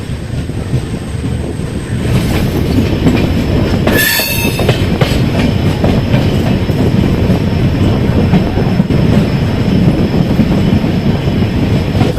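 A Dehradun–Kathgodam Express train pulls into Rudrapur City railway station, with steady rumbling wheels, rhythmic clatter and a brief sharp squeal of wheels on a curve, heard from on board with no talking.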